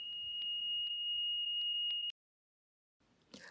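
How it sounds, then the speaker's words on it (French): A loud, steady high-pitched smoke detector alarm tone, set off by cooking, sounds continuously with a few short clicks, then cuts off abruptly into silence as it is reset, before faint rustling. "Parfois, les détecteurs de fumée se déclenchent lorsque vous faites la cuisine et le bruit est très fort."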